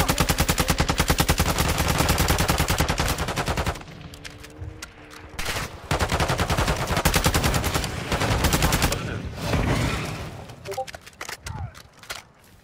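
Vehicle-mounted machine gun firing in Call of Duty DMZ, long loud rapid bursts with short gaps, close and dominant, with a voice speaking between volleys.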